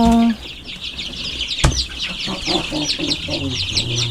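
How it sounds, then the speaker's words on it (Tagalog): A crowd of young chickens and chicks, some about one week old, clucking and peeping busily up close in a steady chatter, with a sharp knock partway through. "Dami pala talaga na nating manok."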